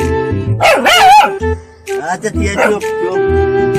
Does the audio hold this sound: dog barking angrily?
yes